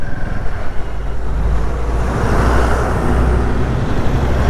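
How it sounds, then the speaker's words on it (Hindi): Heavy highway traffic streams past, cars and trucks coming and going on a narrowing road, a loud, continuous roar with a deep rumble throughout. "गाड़ी आ भी बहुत रही है और भाई जा भी बहुत रही है ना"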